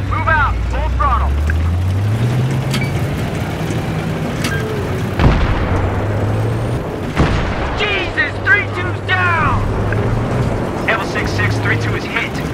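An armored vehicle drives at full throttle during a Battlefield 3 assault, its engine droning and rising in pitch amid heavy booms, explosions and radio chatter, with voices talking throughout.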